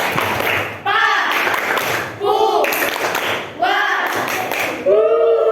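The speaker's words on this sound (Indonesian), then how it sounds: "Kita kasih tepuk Papua." A group performs the rhythmic Papua clap at an Indonesian teaching session, in loud bursts of unison claps broken by short chanted vocal phrases, repeating in a regular pattern several times.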